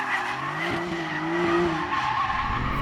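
A 2021 Porsche 911 Turbo S slides with its tires squealing in a continuous skid, loud and close over the engine's steady roar.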